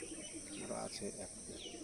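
Teddy pigeons coo in low, soft murmurs, with a few brief chirps mixed in, fairly close by.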